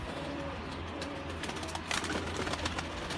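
Baby Kasuri-breed pigeons, some red-eyed, cooing softly in a loft, low repeated throaty coos over a steady background murmur.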